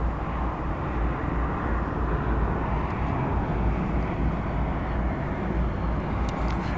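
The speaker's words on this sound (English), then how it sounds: "It's an Airbus A321, flight 2602." An American Airlines Airbus A321 jet at DFW at night, a steady low rumbling engine drone, moderately loud and unbroken, with faint distant traffic-like wash beneath.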